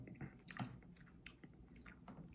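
Someone eats Vietnamese crab noodle soup (bún riêu) with ground crab and short ribs, with soft chewing, smacking and brief slurping bursts close to the mic, fairly quiet and without talk.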